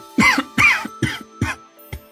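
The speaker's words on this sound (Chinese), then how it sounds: "禁不住咳嗽两声。" A performer voices an ailing sect leader in a fantasy audio drama, coughing in a series of four or five harsh, throaty bursts close to the microphone, the last one shortest.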